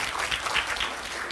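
A conference audience at a MICE industry workshop claps for an invited professor, dense steady applause filling a short moment in a hall.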